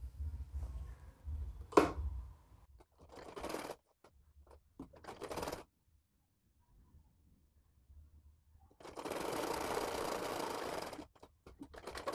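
A sewing machine stitches a party-wear frock in short whirring bursts separated by quiet pauses, with a faint click early on and the longest, loudest run near the end.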